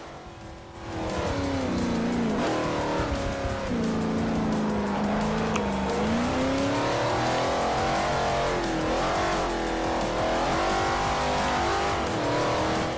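Race car engine in the racing game Forza Motosport 4 roars steadily and loudly throughout, its pitch climbing and dropping through repeated gear shifts and acceleration, with a hint of tire squeal.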